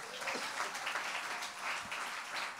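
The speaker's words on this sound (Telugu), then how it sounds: "చప్పట్లు కొడదాం గట్టిగా" Church congregation applause during a sermon forms a soft, continuous patter of many hands clapping, steady and somewhat distant, holding at an even level throughout.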